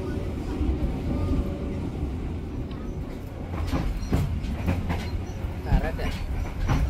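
A passenger train runs on the rails between Cikampek and Purwakarta en route from Jakarta to Bandung, with a continuous rumbling ride noise and a few clunks from the track, heard from inside with faint voices nearby.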